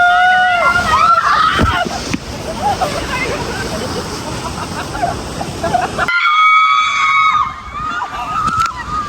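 Waves in a water park wave pool slosh and splash continuously, loud and close, with people shouting and squealing throughout over the churning water.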